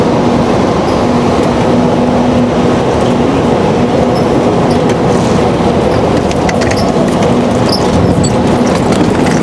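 A KTX high-speed train at a station platform in South Korea gives off a loud, steady rumble with a faint sustained tone, continuous throughout without voices.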